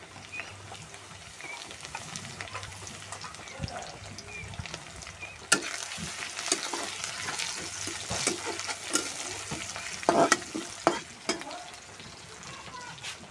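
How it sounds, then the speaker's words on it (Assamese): Crushed garlic and ginger sizzle steadily in a hot pan, a close, continuous frying hiss broken by sharper crackles and the scrape and clink of stirring. "নহৰু আদা ভাজা হৈ গ'ল"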